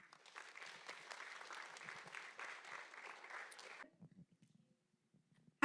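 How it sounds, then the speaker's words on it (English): Steady applause from an audience, dense clapping for a few seconds that stops abruptly, followed by quiet with a few faint sounds. "Round of applause."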